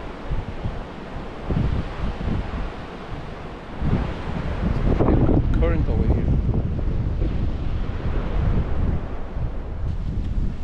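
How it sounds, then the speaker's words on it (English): Water from an inlet rushing out into the ocean on a Punta Cana shore, a loud, steady broadband roar mixed with heavy wind buffeting the microphone, continuous throughout. "All this water from inlet going straight to the ocean."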